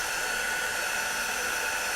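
A hair dryer or heat gun blows with a steady, even whoosh of airy noise and a faint whine, unchanging throughout.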